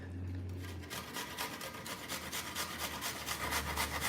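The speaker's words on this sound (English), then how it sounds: "here's my grater, here's my garlic." Garlic rubbed over a grater in a quick, steady rhythm of rasping strokes, close and continuous for a few seconds with no talking.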